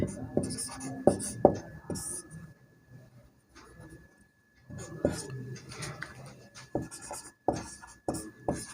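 Hand-writing numbers after a bit of erasing during a number-system lesson: quick scratching pen or chalk strokes in clustered bursts with a quiet pause midway, close and clear, with faint talking underneath.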